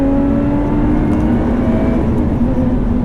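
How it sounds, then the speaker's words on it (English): A 2018 Lotus Evora 410 Sport's engine drones loudly and steadily from inside the car, with a slight dip in pitch as it nearly chokes on an upshift. "See there, it like almost choked when I did it."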